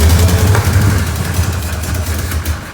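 A rebuilt engine in an old truck idles loud and rough through cherry bomb exhausts, its uneven low rumble and knocking pulses steady throughout, close by and with no talking.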